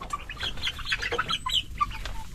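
Chickens cluck and squawk in short, scattered bursts as they are shooed out of a repair area, with some wing flapping among the calls.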